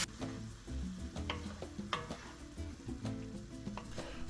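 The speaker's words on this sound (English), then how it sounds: "On medium heat, add 1 pound of ground beef to a skillet and cook until most of the pink is gone." Lean ground beef sizzles in a little oil in a skillet over medium heat, a steady fry under repeated stirring scrapes and light clinks of a utensil against the pan.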